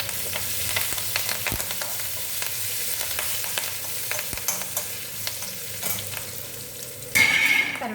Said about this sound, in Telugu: కరివేపాకు వేసాను కదా, ఇది వేగుతూ ఉంది.